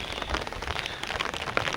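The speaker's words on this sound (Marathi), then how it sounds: "आणि पाऊस देखील आलेला आहे." Steady, soft rain falls outdoors on a hillside in a Maharashtra village, a fine continuous patter of drops with no voices, heard at a moderate distance.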